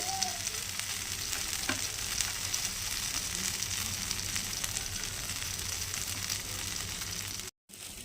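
A whole fish frying in oil in a pan, a continuous dense sizzle and crackle close up, with a brief dropout near the end.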